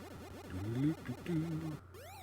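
Pac-Man audio on a Bally Astrocade: a warbling, rising-and-falling electronic siren loops with chirpy blips, then cuts out briefly before a final sweeping tone.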